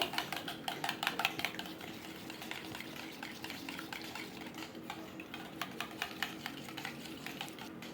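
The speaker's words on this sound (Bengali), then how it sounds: "এখানে সামান্য নুন দিয়ে আমি কিন্তু সুন্দর করে ফেটিয়ে নেব" Eggs with a pinch of salt are beaten in a bowl, giving quick, rhythmic clicking and tapping strokes close by that run steadily, with no talking.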